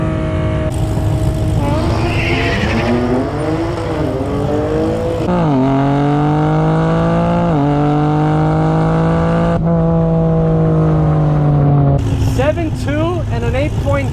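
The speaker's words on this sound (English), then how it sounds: "And launch control. The moment we've been waiting for." A Chevrolet Camaro ZL1 launches hard at a drag strip, its loud engine roaring and climbing in pitch, dropping back at several quick gear shifts before pulling steadily onward.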